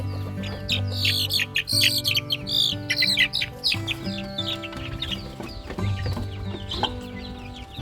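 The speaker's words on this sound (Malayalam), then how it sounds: "ഇതാട്ടോ നമ്മളെ വിരിഞ്ഞിറങ്ങിയ കോഴിക്കുഞ്ഞുങ്ങൾ" Dense, constant chirping and cheeping from a flock of hen-hatched chicks about one to one and a half months old, close by, with overlapping calls and occasional louder clucks throughout.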